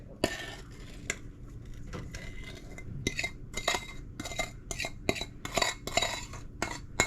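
Banana bread batter stirred in a bowl: a spoon clinks and scrapes against the bowl close up in irregular, repeated strokes, growing busier toward the end, with no talk.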